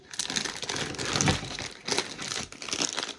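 A crinkly bag of lemon chips rustles and crackles up close in several uneven bursts, with no talking.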